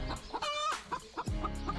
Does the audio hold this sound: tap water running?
no